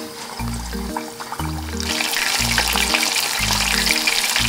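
Chicken karaage pieces frying in hot oil at about 160 degrees, a steady dense sizzle and bubbling that grows louder partway through, with a low rhythmic musical tone pulsing underneath.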